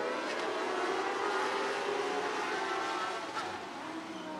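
Sprint cars of the Interstate Sprint Car Series roar around the Coos Bay Speedway oval in a steady, loud, unbroken engine drone heard from trackside.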